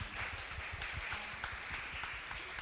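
An audience at a presentation event applauds Professor Kim Hye-young with continuous dense clapping that stays fairly steady and moderately quiet throughout.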